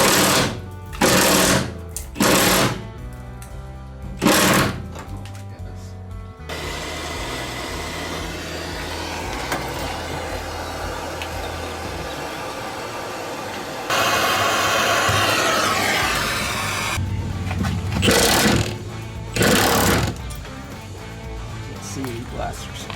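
Abrasive blaster scouring rust off a Chevrolet C1500 pickup's frame: a steady, harsh roar that runs for about ten seconds, then grows louder, with talk and clatter before and after.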